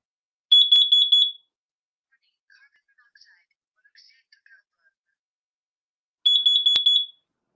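A carbon monoxide alarm sounds its four-beep pattern: two loud bursts of rapid, shrill, high-pitched beeps separated by several seconds of near silence, with faint, indistinct voices murmuring in the gap.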